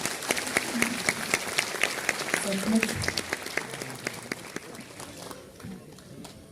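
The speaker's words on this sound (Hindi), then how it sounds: "सबसे पहले तो हमारे बड़े प्यारे कलाकारों के लिए जोरदार तालियां बजाएं" Audience applause for school-age performers at a spiritual stage event, a steady wash of clapping that swells and then thins out, with someone speaking over it.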